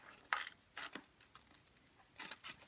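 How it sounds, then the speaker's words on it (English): Scissors cut into a sheet of folded paper in a few short, crisp snips close up and faint, separated by quiet pauses. "make a cut in from the folded side to the fold mark"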